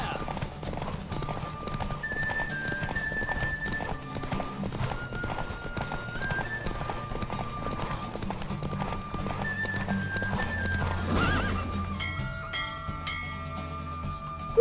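Horse hooves clip-clop at a gallop with an occasional neigh in The Witcher 3 during a race, set against a steady music score and continuous talk over the top.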